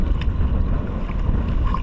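Strong wind buffets the microphone in a steady roar at a fishing spot by the sea, with faint water sounds mixed in; nobody speaks.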